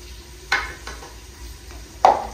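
Spices stirred and browning in a pan of a village home kitchen, with two sharp scraping stirs standing out over a quiet, steady low sizzle.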